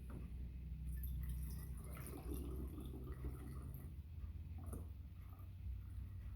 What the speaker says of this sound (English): then pour in my 8 ounces of water